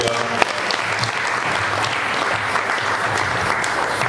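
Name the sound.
church congregation applauding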